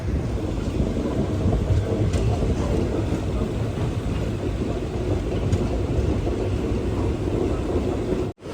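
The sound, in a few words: Rajya Rani Express train running toward Mandya station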